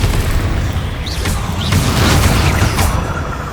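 Confringo blast spell explosions in the video game Hogwarts Legacy: a loud, dense roar of booming blasts and crackling bursts, steady throughout, with a few brief higher-pitched spell sounds on top.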